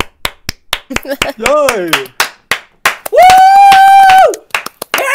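One person claps hands close to the mic during a podcast, giving sharp, irregular claps mixed with cheering voices and a long sung whoop.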